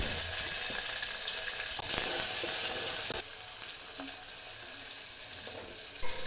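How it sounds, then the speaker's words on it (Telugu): Thinly sliced onions and small tomatoes fry in a pan for Tamil Nadu-style sambar, making a continuous dense sizzle with occasional stirring scrapes and small shifts in intensity. "సన్నగా తరిగిన ఉల్లిగడ్డను యాడ్ చేసి ఉల్లిగడ్డ కాస్త మెత్తబడేలోపు వేయించుకోవాలి"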